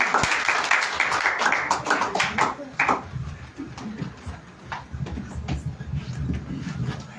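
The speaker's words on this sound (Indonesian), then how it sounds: "Ya, tepuk tangan dong." Church congregation clapping at a Sunday service, a burst of sharp hand claps for the first few seconds that thins out into scattered claps under murmured voices and room noise.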